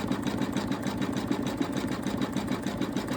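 An embroidery machine stitches the outline of a bunny appliqué with a continuous close, rapid pulsing whir and a steady mechanical rhythm.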